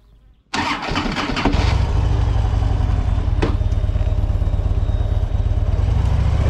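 Custom motorcycles fire up at the start of a group run toward the Ardèche, a sharp engine start giving way to a loud, steady, close rumble of several idling and revving bikes.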